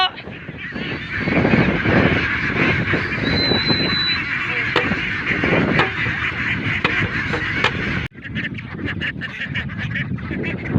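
Free-range ducks honk and quack in a dense, continuous chorus beside their roadside pen on a Philippine duck farm, loud and close, with a sharp thump partway through.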